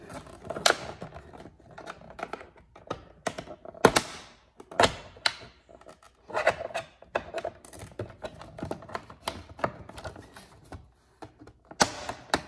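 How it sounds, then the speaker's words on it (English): Plastic mirror trim clips on a 2018-2020 Honda Accord Touring being pried out with a trim tool, giving a run of sharp snaps and clicks with scraping between them, close and fairly quiet, no talking. "try to get your trim tool in there, right, to pop out these things here"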